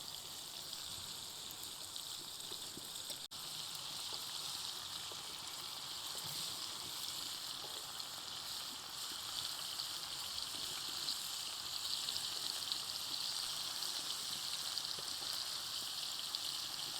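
Kebabs frying in a pan for a village dawat, a steady broad sizzle holding evenly throughout with one brief sharp click near the start and no voices over it.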